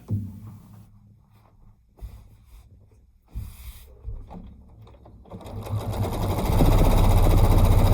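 A domestic sewing machine doing free-motion machine quilting runs in short bursts with pauses, then settles into a louder, steady continuous hum near the end.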